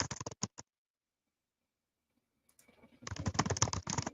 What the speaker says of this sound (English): some very heavy fingers on the keyboard